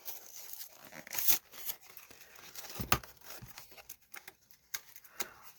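Package of scrapbooking papers being torn open up close, with a few sharp rips and crinkling plastic among faint rustling.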